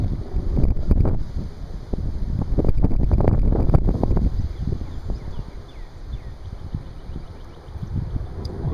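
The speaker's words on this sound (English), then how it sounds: "It's very windy, so it's blowing right away." Gusty wind buffets the microphone in loud, rumbling low bursts, strongest early on and easing toward the end.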